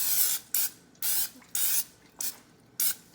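Several short bursts of cooking oil spray into a crockpot, each a sharp hiss about half a second long, separated by brief pauses, close and clear.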